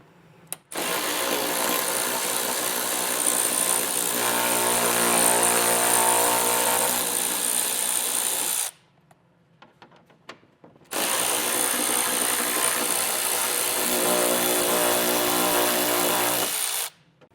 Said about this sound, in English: we're going to take our 10mm socket and get those removed